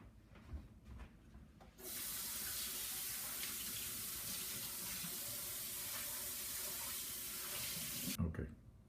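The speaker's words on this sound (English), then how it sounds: "I'm going to have to empty the cake pan, rinse it out." Kitchen tap water rinsing out a cake pan, a steady loud rushing spray that starts abruptly after a few handling clunks, runs for about six seconds, then cuts off.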